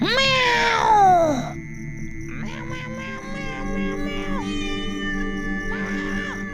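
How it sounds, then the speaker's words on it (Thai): A cat lets out a loud, rising meow, followed by a couple of longer, drawn-out yowls nearby. "นั่นไงแมว มามามาให้ข้าจับซะดี ๆ แมว"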